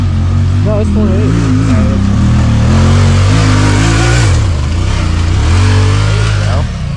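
Off-road vehicle on 28-inch tires revving hard in automatic mode on a muddy Kentucky trail, engine note rising and dropping as gears shift, loud and close with people talking over it.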